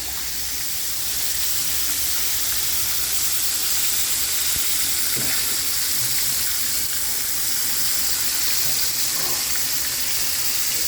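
Country fried steak sizzles loudly and steadily in a hot frying pan as the second side crisps, a dense continuous crackle with no talking.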